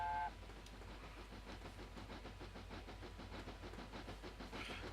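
A narrow gauge steam train climbs a bank on a North Wales railway, its exhaust beating in a steady rapid chuff under a continuous low rumble, with a brief whistle-like tone at the start.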